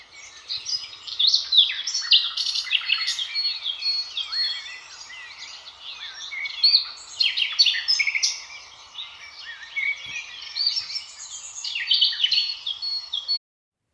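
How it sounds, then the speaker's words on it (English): Dense, continuous chirping and tweeting from birds, bright and fairly close, overlapping calls rising and falling without pause and with no voices or other sounds. "Yes, I heard a bird chirping."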